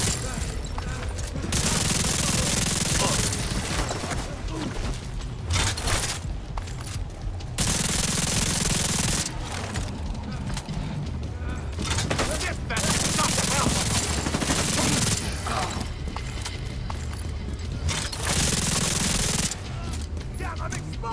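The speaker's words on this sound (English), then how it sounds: "Fucking bullets down here" Gunfire in The Division 2: repeated long bursts of automatic weapon fire come in loud, dense stretches broken by short lulls, with occasional voices in between.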